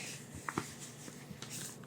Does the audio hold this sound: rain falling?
no